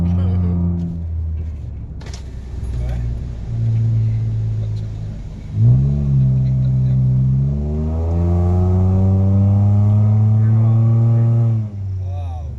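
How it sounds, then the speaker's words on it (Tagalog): A race car's exhaust rumbles and revs on a road trip in Cebu, a loud low drone with rising surges of revving, heard under people talking close by. "Kung maririnig nyo lang guys yung tambutso ng race."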